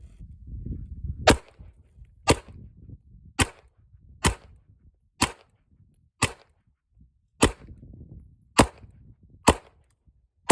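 A Smith & Wesson M&P 2.0 pistol fires about ten sharp, loud shots at a slow, steady pace, each a crisp crack with short gaps of quiet between them.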